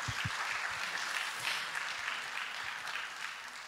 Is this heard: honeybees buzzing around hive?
no